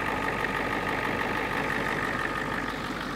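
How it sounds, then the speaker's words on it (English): An IDI diesel engine idles steadily with its AC compressor spinning, a continuous mid-pitched mechanical drone with a faint knocking texture, close and unbroken. "Now the compressor's spinning."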